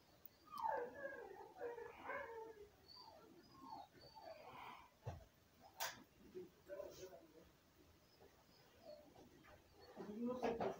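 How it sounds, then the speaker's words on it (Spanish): A dog outside whimpering and yipping in high, wavering cries, fairly faint and intermittent, mixed with people talking nearby. "¿Es un perro allá afuera?"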